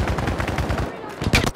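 Gunfire from a shooter video game: rapid, close bursts of shots crackle steadily for about a second, then break into a few louder single cracks, with faint game noise underneath.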